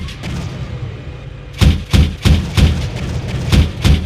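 An M3A2 Bradley Cavalry Fighting Vehicle fires its gun in the tank simulator Steel Beasts Pro: after a quiet rumble, a rapid string of about eight heavy, punchy thuds rings out in a steady rhythm, loud and close.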